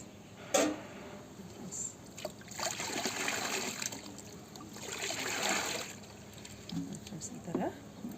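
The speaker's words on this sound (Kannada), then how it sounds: "ಇಷ್ಟಕ್ಕೆ ಇದರ ತ್ರಿಬ್ಬಲ್ ನೀರು ಹಾಕ್ಬೇಕು" Water poured into papaya juice to dilute it, a low trickling and splashing that comes in broad swells over several seconds, fairly quiet with faint background voices.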